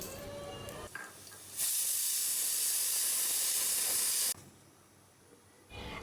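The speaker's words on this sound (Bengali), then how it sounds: "এখানে এক কাপ তেলে ওয়ান টেবিল স্পুন আস্ত জিরা দিয়ে দুই থেকে তিন মিনিট ভেজে নিব" Whole cumin seeds dropped into a cup of hot oil give a sudden loud, bright hiss that holds steady for about three seconds and then cuts off, with quieter kitchen noise before and after.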